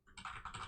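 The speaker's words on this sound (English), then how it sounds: "Just typing anything." Quick keystrokes on a computer keyboard, several clicks close together in a short, close, quiet burst.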